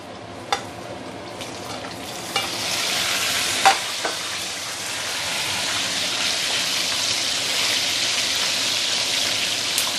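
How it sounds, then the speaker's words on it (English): Belacan chicken pieces sizzle and crackle loudly in hot oil during a quick second fry, a dense continuous hiss with a few sharp pops and clinks near the start. "we are going to double fry for only less than 10 seconds"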